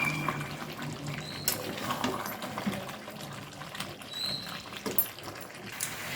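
Chicken sautéing in a pan over medium-high heat, a steady quiet sizzle with scattered soft clicks and scrapes.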